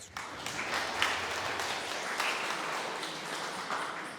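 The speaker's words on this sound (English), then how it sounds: "Give another round of applause." Audience at an art society meeting gives a steady round of applause, dense overlapping claps filling the room at moderate loudness throughout, with no voices over it.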